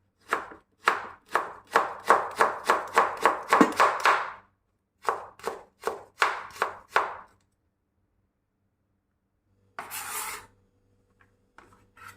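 A knife finely chops carrots rapidly on a board in a steady run of crisp strokes, pauses, then a shorter burst of chopping follows, with a brief scrape afterward.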